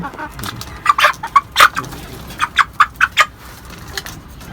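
Broiler chickens kept on a rooftop give a run of short, separate clucks, some louder and close, over faint background noise; no one speaks.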